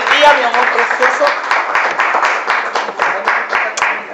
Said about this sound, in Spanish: le podemos brindar un aplauso del público que nos está acompañando a los invitados del día